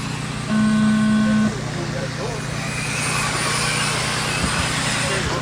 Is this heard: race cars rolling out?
yes